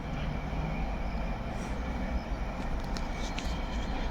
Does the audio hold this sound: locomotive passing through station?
yes